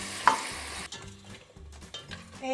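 Mushrooms for a risotto with peas go into a hot pan with a brief burst of sizzling, followed by quieter scraping and stirring sounds with faint sizzle underneath.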